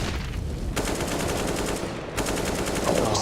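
Automatic gunfire in Counter-Strike: Global Offensive, a pro match, rattles in rapid sustained bursts, with a short pause between two long sprays, fairly loud and with no voices over it.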